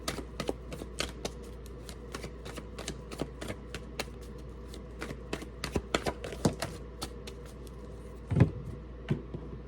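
Tarot cards being shuffled by hand at close range, a string of crisp flicking riffles and taps with short pauses between bursts and a louder clack near the end, with no speech.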